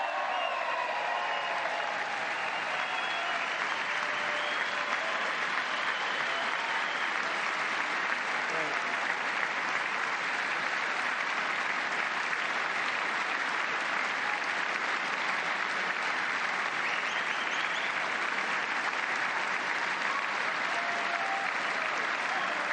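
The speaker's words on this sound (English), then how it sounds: "Lots of applause here." Steady, dense applause from a large audience at a White House event honoring a women's hockey team, sustained evenly at moderate loudness for over twenty seconds with no talk over it.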